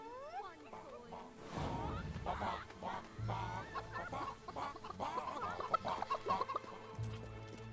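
Chickens cluck and squawk in the video game Fable 3, a steady run of close, fairly loud clucks and rising calls over soft background game audio.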